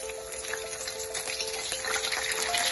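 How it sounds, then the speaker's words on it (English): Prawns frying in hot oil for chili garlic prawns, a steady, dense sizzle and crackle that stays close and even throughout, with no voices. "the oil is hot right now, and I'm going to just fry all the prawns"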